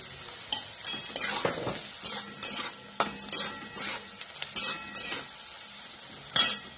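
Asafoetida and turmeric sizzling in hot oil on low heat for an ivy gourd (tondli) stir-fry, with a crisp steady frying hiss punctuated by regular spoon-on-pan stirring knocks, close up and without speech.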